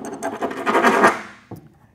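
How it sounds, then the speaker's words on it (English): Round file rasping the rough edge of a freshly drilled hole, several quick back-and-forth scraping strokes close up, ending with a short final scrape. "take the time to dress that up with a round file or a rotofile"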